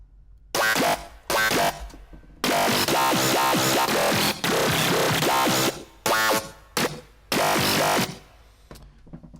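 Gritty wavetable synth bass notes for dubstep, made in Bitwig Studio, play in short bursts and longer sustained stabs, buzzing and harmonically rich, with gaps of silence between phrases.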